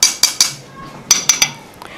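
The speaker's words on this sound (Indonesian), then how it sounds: "Saya ambil mangkoknya ya sama sendok." A spoon clinks against a bowl while cornstarch is being dissolved, two quick bursts of three sharp metallic taps each, close and crisp, with softer handling noise in between and no talk.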